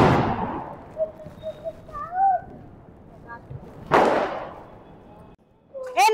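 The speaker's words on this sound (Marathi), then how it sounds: "सो आम्ही आता अजून फटाके वाजवणार आहोत" Diwali firecrackers go off in two sharp, loud bursts, one at the start and another midway, with a faint high whistling tone and quiet voices in between.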